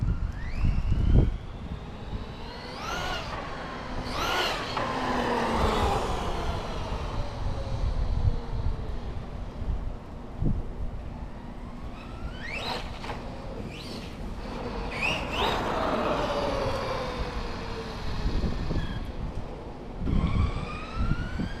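An Arrma Outcast 4s RC car tearing around, with its electric motor whining and sweeping up and down in repeated high-pitched bursts as it accelerates and passes, and scattered thumps from bumps and landings.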